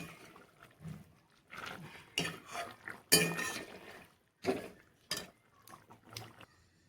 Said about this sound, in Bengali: বাটারটা দিয়ে একটু মিলিয়ে দিবে।